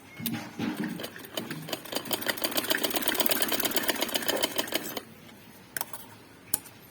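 A sewing machine runs steadily as it stitches the neckline of a kameez, a fast even stitching rhythm for about five seconds before it stops, leaving a few isolated clicks and taps.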